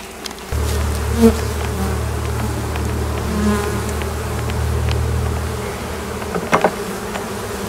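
Honeybees hum from an opened hive as a colony comes out of wintering, a close, steady buzz that holds for several seconds before thinning, with a few faint knocks near the end.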